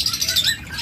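Pet birds such as king quail, lovebirds and budgerigars chirp in quick, close, overlapping tweets at a bird farm, with a soft background hum and no talking.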